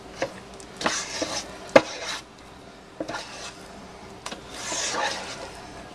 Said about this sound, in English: I'm going to stir it up a little